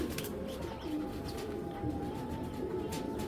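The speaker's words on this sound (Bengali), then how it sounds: "একদম অলরেডি বুড়া জাতের কবুতর এটা" Steady low cooing of a pigeon, an old-breed Bangladeshi fancy pigeon, continuing close by through the whole stretch with faint chirps above it and no talk.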